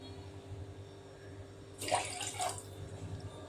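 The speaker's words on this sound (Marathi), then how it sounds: "जेवढं वरण बनवायचं आहे तेवढं पाणी ॲड करायचं" Hot water pours briefly into a pot of cooking dal, a short rushing splash rising over a low kitchen hum, then fading back to quiet background.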